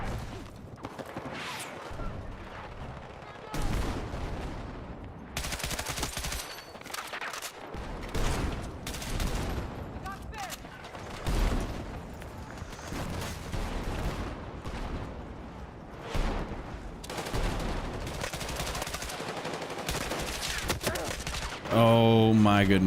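Heavy gunfire from the video game Battlefield 6 rattles almost continuously, bursts of automatic fire and louder blasts packed close together, with a voice speaking at times under the shooting.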